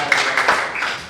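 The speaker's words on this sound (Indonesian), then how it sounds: "tepuk tangan dulu" Students in an elementary school classroom give a short round of clapping for classmates who answered, a dense burst of hand claps lasting about a second, fairly close and loud, with no talk over it.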